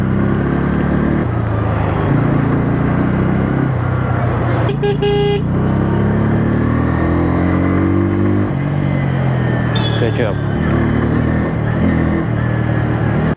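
A Bajaj Pulsar N160 motorcycle runs loudly close by with a steady engine drone and shifting revs, while a brief horn toot sounds in the middle of road traffic.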